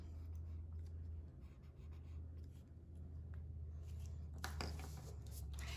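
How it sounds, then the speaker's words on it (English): A pen writing a short label on a quilting template for hand piecing, heard as faint, close scratchy strokes over a low steady hum, with a brief louder scratch near the end. "I'm going to write Emma A, so that I know that this matches this template"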